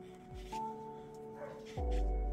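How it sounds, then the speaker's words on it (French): A few sharp dog barks, fairly close, spaced irregularly over a steady tonal hum in the background. "le chien a décidé d'aboyer."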